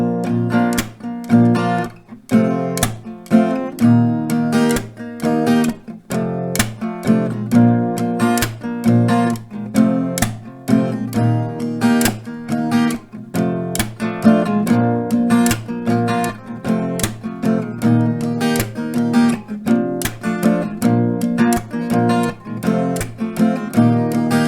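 Acoustic guitar strumming the chord progression of a song at a slightly slow tempo, steady rhythmic strums ringing close and full for the whole stretch, with no voices.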